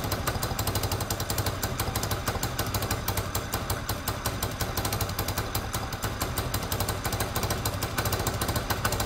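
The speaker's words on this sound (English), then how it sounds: "You can hear that the exhaust was blowing." A Peugeot Tweet 125cc scooter engine runs steadily with a blowing exhaust, giving a loud, dense, rapid chuffing rattle that holds without a break and has no talk over it.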